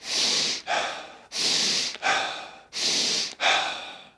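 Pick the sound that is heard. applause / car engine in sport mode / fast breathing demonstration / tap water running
fast breathing demonstration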